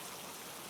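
Steady rain falling, a dense continuous hiss with no breaks or individual drops standing out, even and moderately loud throughout.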